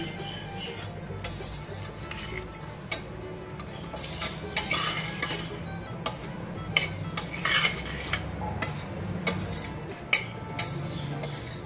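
A spoon stirs vanilla essence into warm tutti frutti mixture in a bowl. Soft scraping and scattered light clinks of metal on the dish come and go at close range, with no talking.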